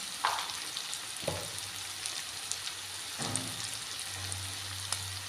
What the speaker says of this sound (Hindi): अभी 2 मिनट के लिए मसाला को पकने के लिए रख दूँगी